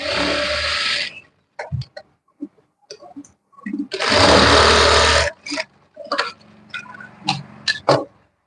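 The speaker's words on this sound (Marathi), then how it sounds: "दुसऱ्या बाजूने सुद्धा टॉक्सवर शिलाई करून घ्यायची आहे" Sewing machine stitching tucks on a princess blouse: two long, loud bursts of rapid motor-driven stitching separated by short taps, clicks and fabric handling.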